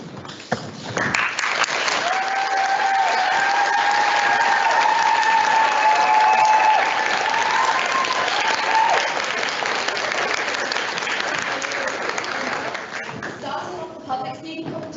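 An audience at a school public speaking competition applauds Team Nightingale, a dense, loud, sustained clapping that swells in quickly and holds steady for over ten seconds before thinning out.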